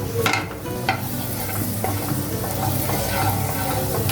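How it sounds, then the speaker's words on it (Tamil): Butter melting in a heated pan for a veg macaroni pasta sauce, a steady close sizzle with soft scraping stirs throughout, no voices. "பட்டர் மெல்ட் ஆகட்டும்."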